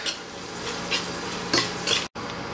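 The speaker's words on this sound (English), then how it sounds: "go ahead and add in some ginger and garlic paste and fry this for a couple of minutes" Ginger garlic paste frying with onions in a pan, a steady close sizzle with a few louder stirring scrapes and a brief cut near the end.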